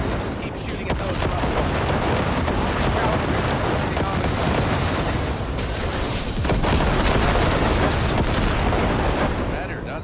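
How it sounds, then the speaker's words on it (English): Sustained, dense gunfire in the video game Cyberpunk, a loud continuous barrage of shots and booms with no clear gaps across the whole stretch. "Just keep shooting at those"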